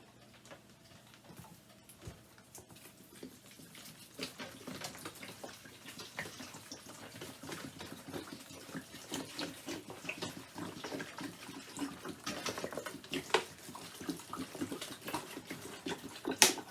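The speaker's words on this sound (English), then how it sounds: "I need to cover it with water." Water pours into a pot of chicken and vegetable broth ingredients for canning, a soft trickle that builds into a steadier, louder stream, with a few clunks near the end.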